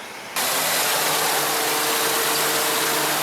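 The engine of a Toyota Matrix turns over and then runs at a steady, loud idle, with a continuous broadband roar and a faint uneven pulsing that could come from a misfire.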